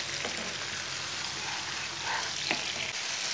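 Green chillies and tomatoes frying in a pan, a steady close hiss and sizzle running without a break, with a couple of faint stirring scrapes and no talking.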